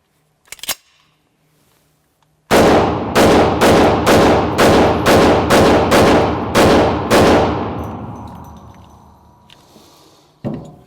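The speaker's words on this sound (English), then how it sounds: "just rapid fire and just seeing if it would cycle all the ammunition" A Hi-Point JXP10 10mm pistol is fired rapidly at a range: ten loud, sharp shots come in quick, even succession, then a ringing echo fades out, and a single click follows near the end.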